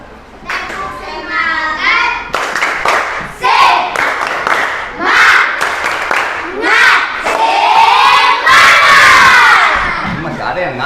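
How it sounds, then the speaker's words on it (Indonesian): A classroom of children performs the 'tepuk semangat' spirit clap chant as a morning icebreaker: loud, energetic group shouting and chanting in rhythmic bursts, with sharp clap-like hits mixed in, sustained throughout. "Sekarang tepuk semangat."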